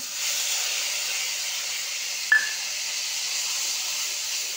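Garlic paste hitting hot oil with cumin for a home-style karela curry: a steady close sizzling hiss, broken once by a brief sharp pop.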